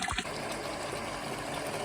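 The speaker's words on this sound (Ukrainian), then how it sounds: "Все, зараз будемо пробувати взяти воду отсюда." Water pumped up from a freshly flushed well, a continuous rushing, gurgling flow with steady mechanical noise and a brief knock at the start.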